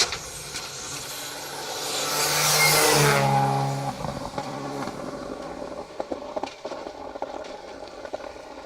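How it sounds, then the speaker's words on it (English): Skoda Fabia rally car on a stage of the Down Rally 2023, its engine swelling loudly as it approaches and revs hard through rising gear notes, then fading away into distant background noise. "Car 61, Colin Rourke, Shane Gilhooly, flying high in the Skoda Fabia."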